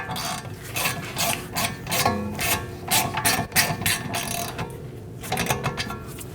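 A ratchet snugs down the rear brake caliper bolts on a 2019-2026 Mazda 3, giving quick bursts of close metallic clicking in several short runs with brief pauses between them.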